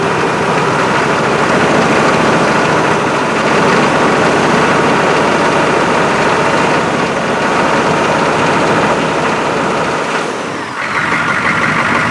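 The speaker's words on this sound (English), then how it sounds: "Sounds like a high idle to me." A GM 6.5 engine holding a high idle, a loud, steady broadband drone lasting throughout with a brief low thump near the end and no speech.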